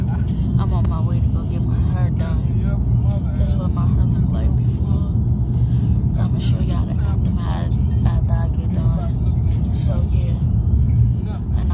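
Interior of a moving car: a steady low road and engine rumble fills the cabin throughout, with a person talking over it almost continuously.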